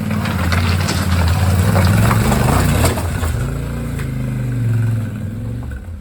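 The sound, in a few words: Yamaha Tenere 700 motorcycle engine while riding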